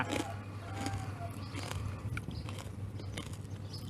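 Someone bites and chews crispy fried pork cracklings up close, with quiet crunches and crackles over a faint steady background hum.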